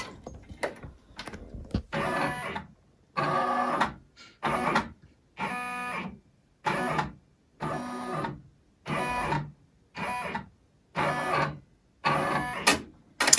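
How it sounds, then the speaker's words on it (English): Embroidery machine stitching a logo onto a shirt held in a hoop, running in loud rhythmic bursts of rapid mechanical stitching separated by short pauses, close and with no talking. "So now we can set the embroidery going."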